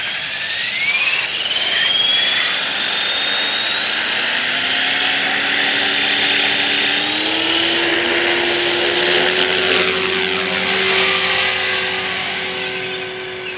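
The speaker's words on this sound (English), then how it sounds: "I just love this helicopter because of its quietness and its smoothness." A small 450 GT model helicopter whines steadily overhead with a high rotor and motor pitch that rises and shifts as it manoeuvres, continuous and fairly close.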